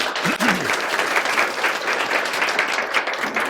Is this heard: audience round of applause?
yes